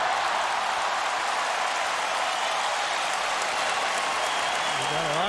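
A tennis crowd at Madison Square Garden applauds steadily at an exhibition match between Roger Federer and Pete Sampras, a loud, dense clapping wash throughout, with a voice rising faintly underneath near the end.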